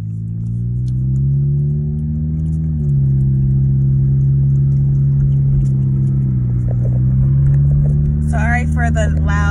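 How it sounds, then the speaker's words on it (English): A loud car's engine drones steadily throughout with a low harmonic rumble that shifts pitch slightly, heard from inside the vehicle, with brief voice-like sounds near the end. "For the loud car."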